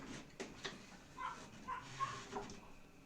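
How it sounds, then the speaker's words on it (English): A dog gives a few faint, scattered barks and yips at a distance, spaced irregularly against a quiet background. "Binky, what are you barking about?"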